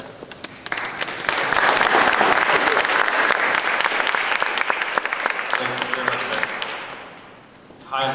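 An audience at a World Affairs Council of Philadelphia evening event gives loud, sustained applause welcoming a speaker. The clapping swells quickly, holds steady, then fades before a voice begins.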